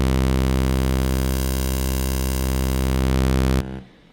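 A Serum wavetable synth on the crossfade morph algorithm holds one steady buzzing tone with many even harmonics for a few seconds, then stops abruptly, leaving faint noise.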